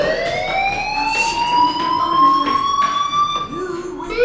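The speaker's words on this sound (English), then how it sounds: "do you hear that fire alarm? That means you should be outside." Fire alarm ringing in the video game Life is Strange, a loud, continuous rising electronic tone with steady harmonic overtones, dominating the scene without pause.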